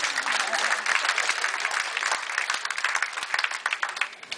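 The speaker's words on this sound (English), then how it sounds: "Let's give it a round of applause" A casino audience breaks into applause, a dense patter of many hands clapping nearby that thins into more distinct individual claps toward the end.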